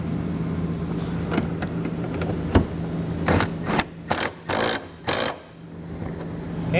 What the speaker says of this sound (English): you can come back with a 17mm socket and tighten them down